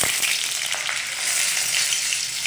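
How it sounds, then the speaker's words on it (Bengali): Bright, steady sizzle and crackle of dried red chili, Bengali five-spice and a torn bay leaf hitting hot oil in a pan, close and continuous with no talking. "গরম হয়ে গেছে, এবার প্রথমে আমি শুকনো লঙ্কাটা দিয়ে দিচ্ছি, তারপরে 5 ফোড়ন, 1/2 চামচের কম, 1টা তেজপাতা ছিঁড়ে দিয়ে দিলাম"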